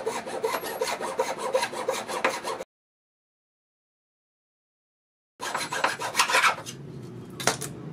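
A small hand saw rasps back and forth in quick, even strokes through Kato Unitrack model train rail held in a miter box, close up. There is a silent gap, then more rapid sawing and a few sharp clicks.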